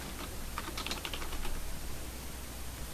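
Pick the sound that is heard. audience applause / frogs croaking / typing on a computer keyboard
typing on a computer keyboard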